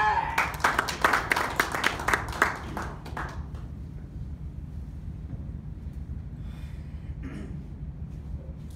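Audience applause at a tech talk event, a burst of scattered claps for the first few seconds that dies away into quiet room hum with faint murmurs.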